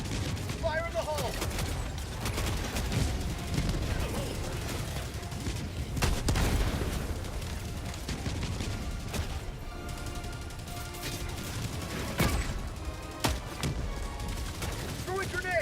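Bursts of gunfire and explosive blasts from a Helldivers 2 firefight, dense and continuous, with a loud crashing boom partway through, while a voice talks over the chaos.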